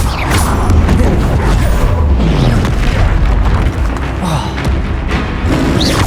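Bombarda blasting spell going off in the wizarding video game Hogwarts Legacy, a loud continuous booming explosion with dense low rumble and thuds, busy combat effects layered throughout.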